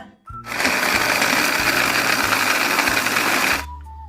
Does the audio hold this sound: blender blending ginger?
yes